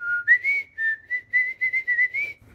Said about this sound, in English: and I can whistle.